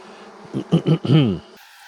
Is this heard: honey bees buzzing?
yes